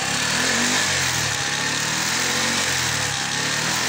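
A Kymco Yager 125 GT motorcycle engine revs steadily up close, a loud continuous buzzing drone with slight rises in pitch and no talking.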